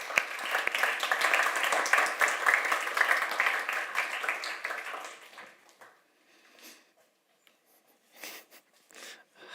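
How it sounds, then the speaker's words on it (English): Applause from a meet-up audience fills the first five seconds with dense clapping, then thins into a few scattered claps and noises before fading out. "Give him a applause"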